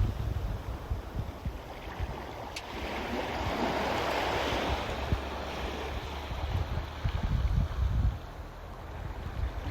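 Surf breaking on a seashore, a steady broadband wash of waves with rising and falling swells over constant wind buffeting the microphone, no voices.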